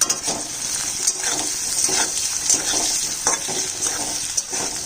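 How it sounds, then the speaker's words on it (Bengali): Potatoes fry in oil with a little salt and a pinch of turmeric, sizzling steadily and close up while a utensil stirs and scrapes the pan in repeated strokes. "সামান্য নুন আর এক চিমটি হলুদ দিয়ে ভাজবো"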